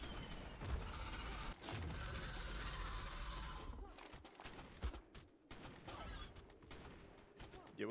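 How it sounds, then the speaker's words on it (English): Rapid gunfire in the survival game ARK rattles in dense bursts during a raid, mixed with game noise and players talking over it at low volume. "We need to start shooting right now."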